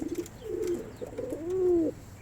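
Pigeons in a coop coo nearby in low, throaty warbles, a few short calls and then one longer rolling coo, with faint background noise.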